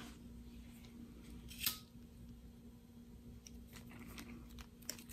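Scissors snip once through lining fabric while trimming a sewn tail, a single close crisp cut over a quiet room hum, with faint small handling ticks afterward.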